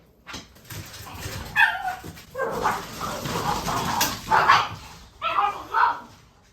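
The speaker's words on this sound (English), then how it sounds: "Those are my dogs. They're crazy." Several dogs bark and whimper close by in excited bursts, with a person's voice mixed in among the yelps.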